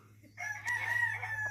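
A rooster on the island of Kauai crows once in a long, loud, near call, with a steady low hum running underneath.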